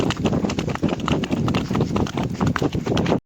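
A mare's hooves clip-clop in a steady, brisk rhythm as she is ridden around in a loop on a road, close and continuous until they stop abruptly at the end.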